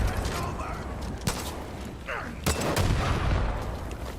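Sniper gunfire in Far Cry 5 cracks out in a few sharp, loud reports over a busy, noisy game mix, with mechanical clatter between shots.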